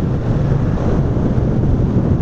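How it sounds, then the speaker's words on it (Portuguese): Strong cold wind buffeting the microphone while riding a motorcycle in São Paulo, a loud, continuous, gusty rumble with no talking. "Tá um vento gelado, mano."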